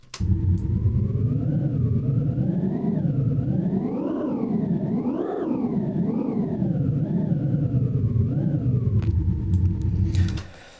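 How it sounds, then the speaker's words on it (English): A synthesized engine rumble drones low and steady, its pitch rising and falling in slow waves like a revving motor. "we're getting quite close to that engine rumble sound"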